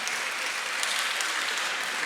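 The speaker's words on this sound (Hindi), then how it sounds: "तालियां बिना कहे भी बजाओ" An audience at a poetry recital honoring Maharaja Agrasen Jayanti claps continuously, a dense, even wash of many hands throughout.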